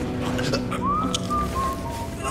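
A guard in a stealth video game whistles a short sliding tune at moderate distance, amid game ambience and background noise.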